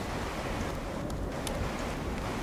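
A storm in DayZ on the Namalsk map roars as broad, steady rain and wind noise, loud and unbroken, with faint higher rattles flickering over the wash.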